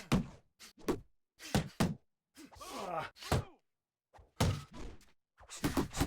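Boxing punches land in Fight Night Champion as a series of dull, thudding body blows, some in quick pairs and combinations, separated by short pauses and one drawn-out groaning crowd swell, all fairly close and crisp.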